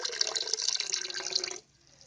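Liquid pours into a half bucket of water for homemade floor cleaner, a close, bright splashing stream lasting about a second and a half before stopping abruptly into quiet.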